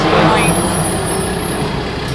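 A truck passes close by in a city street, producing a loud, sustained rumbling roar that fades slightly toward the end, with a voice talking over it.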